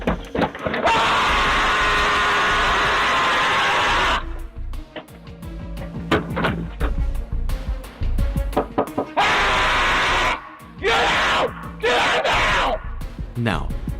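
A man screams loudly at the top of his lungs, the sound coming from a stranger at 4 a.m. The harsh sustained yells come in long bursts that alternate with shorter noisy gaps.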